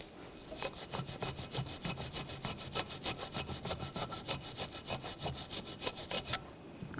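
A wire brush scrubs rust from a BMW X5 brake caliper bracket in fast, steady back-and-forth strokes, close and harsh, about four per second, stopping abruptly near the end.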